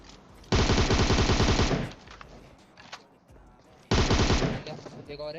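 Rapid automatic fire from an MK14 rifle in PUBG comes as two loud, sustained bursts of over a second each, separated by quieter gaps with faint background game sounds.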